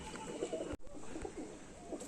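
Male and female golden teddy pigeons coo softly in close, continuous murmuring phrases that run the full length, with one brief break partway through.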